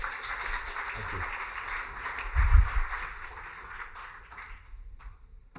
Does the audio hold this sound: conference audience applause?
yes